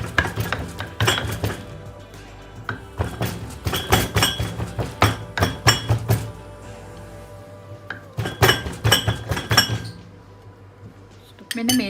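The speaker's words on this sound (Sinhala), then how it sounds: "මම දැන් මේ වෙරළු ටික එකින් එක මෙන්න මේම දාලා චුට්ට චොප් කරගන්නවා." Ambarella fruit being chopped one by one with a knife on a board, a series of sharp, uneven knocks and clinks in quick bursts, close and fairly loud, with brief pauses between runs.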